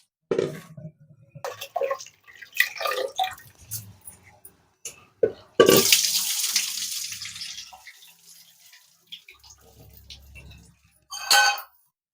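Rice rubbed and washed by hand in water, with sloshing, swishing and splashing in irregular bursts, close up, including one longer pouring rush and scattered clinks.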